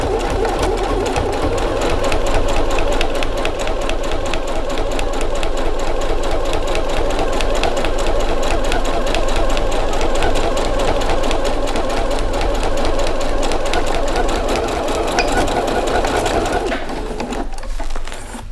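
A sewing machine stitches fabric for a small pouch that holds felt-tip markers, its needle running in a loud, steady, rapid mechanical rhythm for most of the stretch before slowing and stopping near the end.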